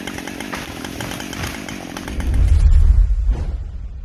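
A big chainsaw cuts into a tree, its engine snarling loudly and continuously, with a deep surge of low rumble as the bar bites into the wood before the noise drops away.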